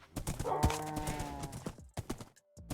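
Horse hooves clip-clop in Minecraft, a steady run of close, clear hoof taps that carries through most of the moment before a brief pause, then a few more steps at the end.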